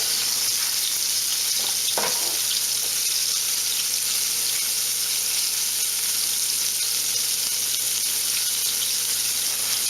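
Fish fillets fry in Shore Lunch Cajun Style breading, giving a steady, dense sizzle that holds evenly for the whole stretch, with a brief clink of a utensil near the start and no talking.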